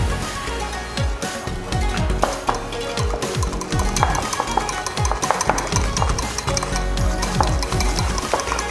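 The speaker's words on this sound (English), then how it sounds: "Okay, so the last only we add in our cooked salted egg yolk. Okay, so we just mix in." Cooked salted egg yolk is stirred into a curry mayo mixture for seafood fritters, giving steady, close scraping and stirring strokes with light clinks against the bowl, continuous and fairly loud, with frying sizzle nearby.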